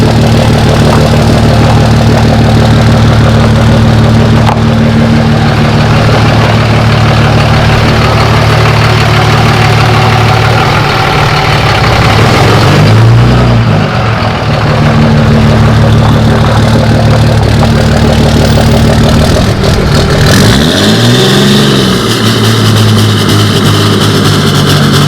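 A 2005 Cummins diesel engine with power and torque upgrades idles with a steady, loud low-pitched rumble, and the pitch sweeps up and back down in brief revs about midway and again near the end.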